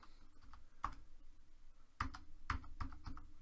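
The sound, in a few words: typing on a computer keyboard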